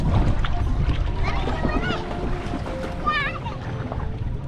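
Children's voices call out while swimming and splashing in shallow sea water off a Thai village, over steady water sloshing, with a boat-like rumble underneath throughout.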